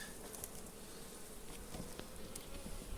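Quiet, steady buzzing of many honeybees around a hive at an apiary, a soft continuous drone with faint individual insects passing nearby.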